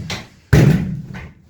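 Bivouac tent doors being closed and sealed during a snowstorm, a soft fabric rustle followed by a sudden, loud flapping thud and a trailing rustle, close to the listener.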